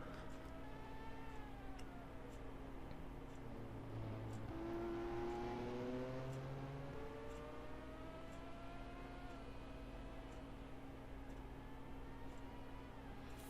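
An IndyCar race car engine at full throttle on the Road America circuit, a steady droning whine with rising pitch sweeps as the car accelerates, moderately distant and continuous throughout, with no talk.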